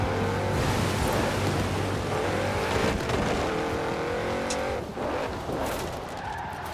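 Volkswagen Golf 4 driving in Forza Horizon 4, a loud continuous engine roar with tyre skidding and squeal, steady for most of the stretch before dipping briefly and easing slightly near the end.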